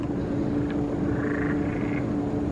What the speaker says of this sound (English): Here's some frogs too.